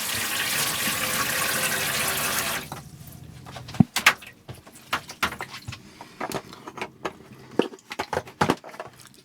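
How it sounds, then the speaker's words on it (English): Water runs steadily from the shower in an Autosleeper Duetto motorhome for a few seconds, then cuts off, leaving scattered knocks, clicks and rattles of fittings nearby. "let's show the shower working"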